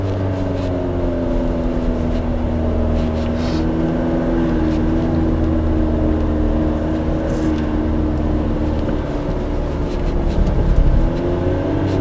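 A 2023 GWM Cannon pickup drives in automatic mode with a steady, close engine drone from inside the cab. The pitch rises and falls with the gear changes, with a brief surge near the end, and no one talks.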